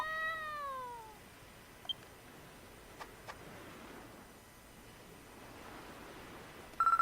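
A baby kitten mews in the video game Dragon Quest X, a short run of rising-falling high cries at the start, then quiet ambience with a few faint clicks and a brief electronic tone at the end.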